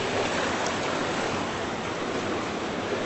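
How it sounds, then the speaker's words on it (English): Creek water rushing against and striking a small bridge, a steady broadband wash of flowing water that stays loud and even throughout with no talking. "That's the only bridge that has not got water hitting."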